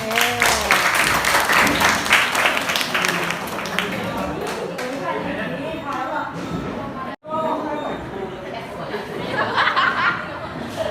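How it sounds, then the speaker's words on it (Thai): Crowd applause with scattered laughter and chatter at a school, a dense clapping wash running throughout, briefly cut off once before resuming. "อ่าปรบมือหน่อยเนี่ยปรบมือหน่อย"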